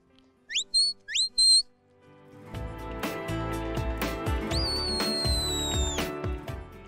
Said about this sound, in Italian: Con il fischio lungo vedete il cane si ferma.